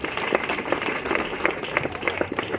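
Guests at a wedding ceremony applaud together in a continuous patter of many hands clapping, moderately close and filling a room. A faint murmur of voices runs beneath it.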